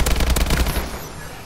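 Rapid automatic gunfire from Call of Duty: Advanced Warfare, a loud dense burst of shots in the first half that trails off into fading echoes, with no voices.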